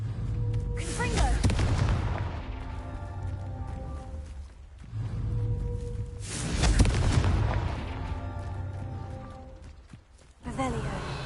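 Repeated Confringo blast spell explosions in the Hogwarts Legacy video game: several deep, booming bursts with rumbling tails, close and loud, spaced a few seconds apart over game music.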